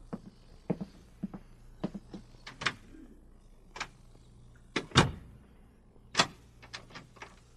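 A hospital door clunks and clicks through a series of sharp, separate knocks and latch snaps, with a heavier thud midway, set against a quiet room.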